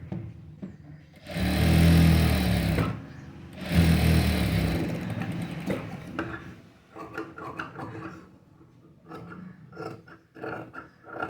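A sewing machine stitches a blouse in two loud, steady runs of a few seconds each, then stops; softer handling and rustling of fabric follow.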